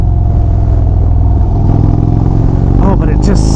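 Low, steady exhaust rumble from a 2025 Indian Springfield Dark Horse motorcycle, loud and close throughout, with a rising rev near the end and a voice talking over it.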